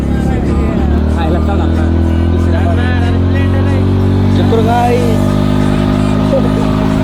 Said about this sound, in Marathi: गाडी काय चढत नाही, खूप लोडवर राहिली आहे.